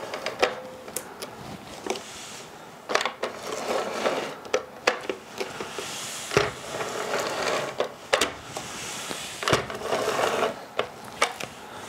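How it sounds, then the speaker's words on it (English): A Scotch tape gun lays acid-free tape along the edge of a photo mat, giving a close run of sharp clicks, snaps and ratcheting rasps in uneven bursts, with no talk. "I use my Scotch tape gun with my acid-free tape, and just on the perimeter"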